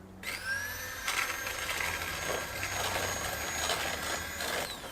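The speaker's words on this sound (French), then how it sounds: "je dois blanchir les œufs entiers et le sucre au batteur" Electric hand mixer beating whole eggs with sugar for a chocolate cake, its motor starting abruptly and holding a steady high whine with rattling beaters, close and continuous with no talk.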